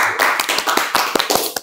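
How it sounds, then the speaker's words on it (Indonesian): Handclaps from a small group at an indoor talk-show style gathering, loud and close, forming an uneven burst of sharp claps that trail off within under two seconds. "Tepuk tangan dulu dong."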